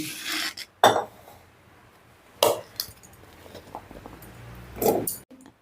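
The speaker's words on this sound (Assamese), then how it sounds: "গোটেইখিনি আম মই কুকাৰত দি দিলোঁ" Small chopped raw mango pieces dropped into a pressure cooker for jam, three separate clattering knocks spaced apart with quiet between them.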